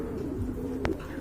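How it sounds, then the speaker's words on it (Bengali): Pigeons at a large farm holding more than a hundred pairs of birds give a low, steady coo that runs under the whole stretch, with one brief brighter call near the end. "খামারে কিন্তু 100+ পেয়ারের বেশি কবুতর রয়েছে"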